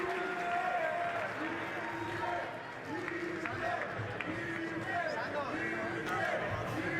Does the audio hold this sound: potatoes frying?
no